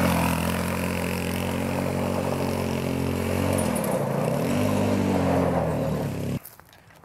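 A go-kart engine drones steadily nearby, its pitch rising and falling a little as the kart drives around, before cutting off abruptly near the end.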